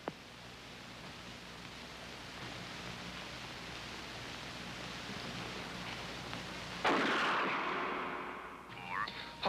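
A single loud gunshot cracks out after a long stretch of steady background hiss, then its echo slowly fades away.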